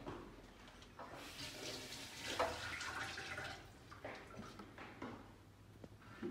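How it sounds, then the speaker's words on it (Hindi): Vegetables are washed under a running kitchen tap, and the water splashes and gurgles at a low, uneven level. There are soft knocks and faint handling noises, and no one speaks. "अब इनको धो लूंगी।"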